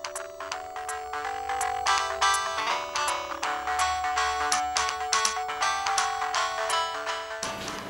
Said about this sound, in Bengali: দেবল, ফোনটা ধরো না।